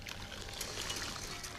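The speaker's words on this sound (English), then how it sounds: "we pour this mixture" A melted chocolate mixture pours from a pan onto egg yolks, making a soft, continuous liquid trickle, quiet and close, with no speech.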